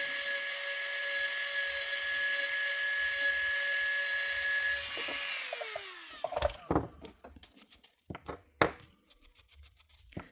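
An electric nail drill with a file bit shaping a fingernail gives a steady high whine for about five seconds, then winds down into short scraping strokes and faint taps.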